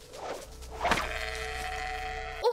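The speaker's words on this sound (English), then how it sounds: "Oh. Sheep." Sheep bleat in the video game Norway Simulator: a short bleat followed by a longer, wavering, nasal bleat, close and clear, with no talking.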